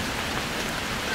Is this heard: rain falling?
yes